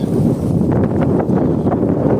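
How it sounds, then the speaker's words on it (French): Strong wind gusting across a microphone on a Rhône riverbank at a carp-fishing bivouac, a loud, steady broadband rumble and buffet that never lets up. "Bon, un sacré vent qui s'est levé."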